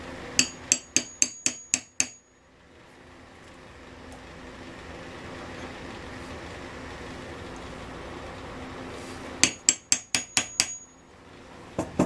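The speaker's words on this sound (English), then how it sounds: "I'm just trying to tap on it until it flattens" A hammer taps a new Welsh plug into a Homelite SX-135 engine. Two quick runs of about six to eight sharp metallic taps ring out, separated by several seconds of low background hum.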